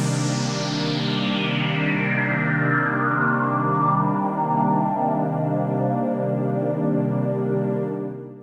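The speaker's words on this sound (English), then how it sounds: "what I have is just a long 7-bar chord being held down with the Korg Triton" A steady, dry synthesizer pad chord from a Korg Triton held throughout, warm and full with a slight internal shimmer, loud and unbroken.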